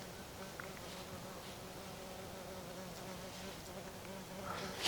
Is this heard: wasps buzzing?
yes